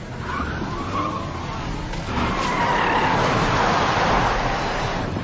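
A getaway car speeds off with tires skidding, a loud continuous roar and screech that swells and holds steady, close and alone without talk.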